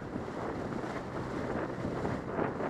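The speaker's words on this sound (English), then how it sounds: "Probably can't hear me talking because of the wind, but we are sailing" Steady wind buffets the microphone aboard a sailboat underway near an ocean inlet, a constant rushing roar with faint water and surf sounds beneath.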